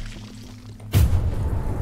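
A loud explosive boom in the Choo Choo Charles video game blasts a bunker open, striking abruptly after a quiet stretch with a low hum, then rumbling on as a broad, sustained roar.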